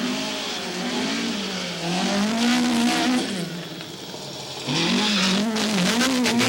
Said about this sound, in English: You can hear from the engine, it's just spinning the tires all the way through.